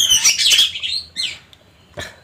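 An oriental magpie-robin delivers loud, close, bright whistled phrases, a rich burst of song followed by a few shorter separate notes with brief silences between.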